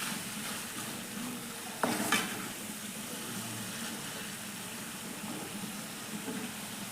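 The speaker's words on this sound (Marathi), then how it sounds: "तेल सुटेपर्यंत परतून घेऊया." Prawns in a tomato masala sauté in oil with a steady sizzle, a sharp clatter of stirring near the two-second mark and softer scrapes afterward, with no talk over it.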